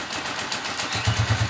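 A motorcycle engine idles with a steady low rumble, its exhaust pipe partly covered, settling into a few rhythmic low pulses near the end; no talk in this moment.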